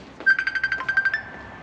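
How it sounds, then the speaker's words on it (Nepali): A mobile phone rings with a call from home, a quick run of about ten bright electronic beeps at an even rhythm, close and clear, ending in a brief sustained tone. "घरबाट फोन आइसक्यो।"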